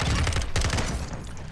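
FSS Hurricane submachine gun firing in a video game: dense, loud continuous bursts of rapid gunfire with sharp cracks throughout, fading slightly toward the end.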